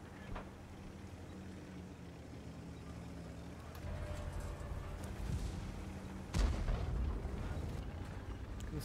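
Tank guns fire in the World of Tanks video game: low rumbling battle ambience with a sharp, heavy cannon blast about two-thirds through, followed by lingering rumble, fairly quiet overall.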